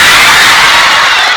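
Audience at an Indonesian sermon breaking into loud applause and cheering, a dense continuous roar of clapping and voices that stays strong, then eases slightly at the end.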